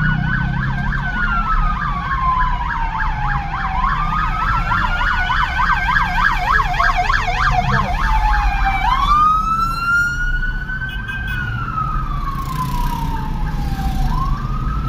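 An ambulance siren wails loud and close on a Mexico City avenue, sweeping in rapid yelp cycles before shifting to slower rising-and-falling wails, over steady traffic rumble and engine noise.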